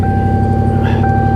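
A salvage-auction car's engine runs steadily and loudly at idle, a constant droning hum with a brief brighter rise near the end.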